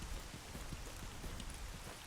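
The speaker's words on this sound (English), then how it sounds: "I hate the damn rain." Steady rainfall in the game STALKER Anomaly GAMMA, a soft continuous patter of drops on surfaces, quiet and even throughout with no speech.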